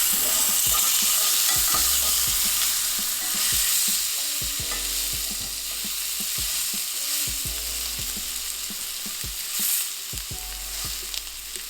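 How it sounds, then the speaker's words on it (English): A steak's fat cap searing in a cast iron pan, a loud, steady sizzle and hiss throughout with small spattering crackles, no voices. "We're gonna sear the fat cap first."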